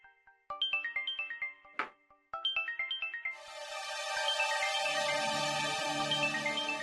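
A phone rings in the morning with a repeating melodic ringtone in short pulsing bursts, then gives way to a sustained, denser musical tone that carries on to the end.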